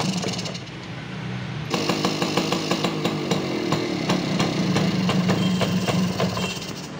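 Small two-stroke engine of a Yamaha V75 moped, converted from points to CDI ignition, catches and runs, a close, steady buzzing idle with a rapid rattling pulse that holds loud and even after starting.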